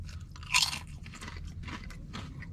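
Close, crisp crunching as potato chips are bitten and chewed, one loud bite followed by several softer crunches, no talking.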